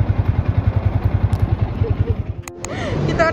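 A motorcycle idles while being parked at a lot, its engine pulsing in a steady, rapid putter up close, then fading under other background noise near the end.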